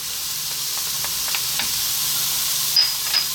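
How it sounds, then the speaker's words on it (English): Chopped garlic sizzles in a generous amount of hot oil, a constant close hiss with faint ticking pops and a couple of brief brighter spikes near the end. "We're now going to add our garlic, chopped garlic, 1 tablespoon of chopped garlic."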